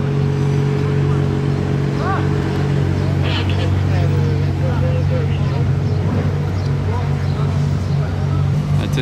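A Ferrari TDF sports car drives past on the Place du Casino in Monaco during a Ferrari cavalcade, its engine a loud steady roar close by, with crowd chatter and other cars running throughout.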